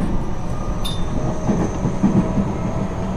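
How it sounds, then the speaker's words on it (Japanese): A Japanese commuter train, a local service, rolls along the rails with a steady low rumble and rhythmic clicking of wheels over joints, heard from inside the car, moderately loud with a brief high squeal early on. "この電車2分ほど遅れて発車しております。"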